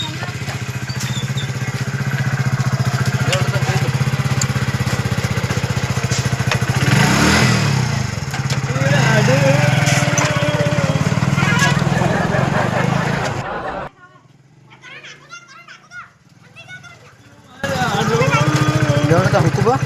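A motorcycle engine runs steadily and loudly, close by, with a low rumbling drone through most of the stretch, briefly dropping out near the end before returning; voices talk over it.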